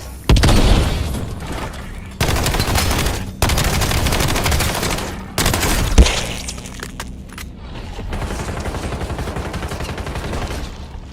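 Video game combat with loud bursts of rapid gunfire and heavy booming explosions, broken by brief pauses, then a quieter stretch of crackling fire.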